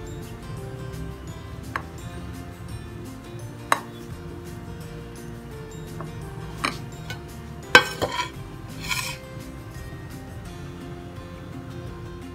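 Flour-coated tutti frutti folded into eggless vanilla cake batter in a bowl, a few soft stirs broken by sharp isolated clinks of a spoon against the bowl over a quiet background, no talking.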